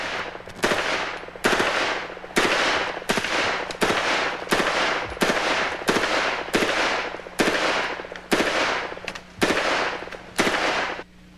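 A 9mm Parabellum submachine gun firing selective-fire bursts at about 700 rounds per minute, a dozen short, loud bursts in steady succession with brief gaps between them.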